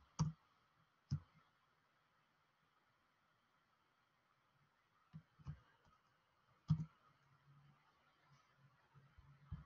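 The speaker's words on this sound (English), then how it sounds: "I press enter." Several sharp key presses and clicks from a computer keyboard and mouse in a quiet room, a couple of isolated taps followed by a small burst of clicks, faint and close.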